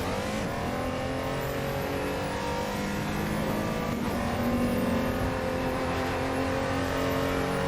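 A bathtub race car in a sim racing game revs hard and holds a loud, steady high-pitched engine drone, rising and falling slightly as it speeds down a straight with no talk.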